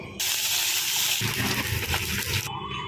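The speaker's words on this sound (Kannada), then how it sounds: "ಪಾಲಕ್ ಸೊಪ್ಪು ಕಟ್ ಮಾಡಿ ಚೆನ್ನಾಗಿ ತೊಳೀರಿ." Running water splashes over chopped spinach being washed for palak paneer, a loud close hiss of tap water that starts abruptly, holds steady for about two seconds, then cuts off.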